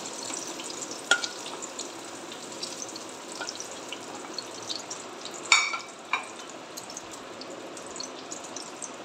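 Capsicum frying in oil gives a steady hissing sizzle throughout, with occasional sharper pops and a few clinks of a utensil stirring in the pan.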